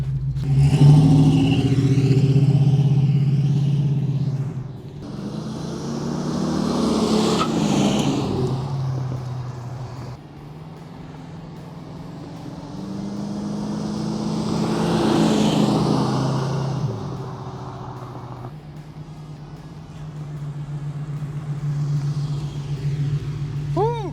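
A 1978 Pontiac Trans Am makes repeated flybys, its V8 engine swelling from a distance into a loud roaring pass, then fading away, with a few separate passes, each rising and falling, and a voice briefly audible.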